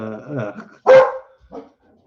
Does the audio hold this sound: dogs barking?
yes